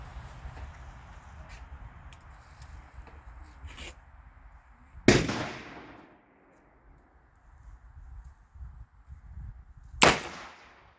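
Two sharp, loud gunshots from a Thompson/Center Contender in .44 Magnum firing CCI Blazer cartridges ring out about five seconds apart, each with a short echoing decay over quiet outdoor background.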